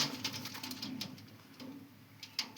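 Soft, close pigeon sounds, including a pigeon with a broken beak, with light fluttering and tapping, a few brief louder peaks, and quiet coos in a calm setting.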